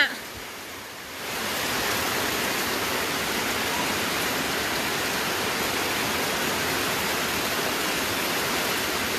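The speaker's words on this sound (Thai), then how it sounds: "ตอนนี้พิกัดบ้านสูบน้ำมาเร็วมากฝายขาด" Floodwater from a broken weir rushes through a village during heavy rain, a dense, continuous roar that swells within the first second or so and then holds steady and loud.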